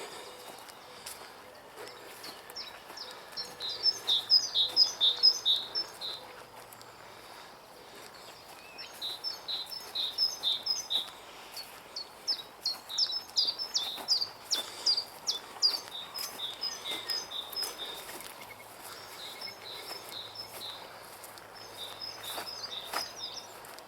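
Small birds sing in repeated bursts of high chirps and trills outdoors on an April afternoon walk, moderately near, with soft footsteps and light ambient noise underneath and no talking.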